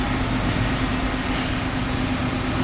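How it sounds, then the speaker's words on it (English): Industrial laser cutter slicing sheet steel for half of a two-stroke exhaust pipe on a RIEJU MR 300i, a loud, steady machine drone with a constant hum that holds throughout, no voices. "Now we put it down on our laser right here. This is gonna go into the laser"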